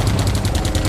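Loud, rapid rattle of gunfire in the video game Geist, a fast, evenly spaced burst of overlapping shots filling the whole moment with no voices.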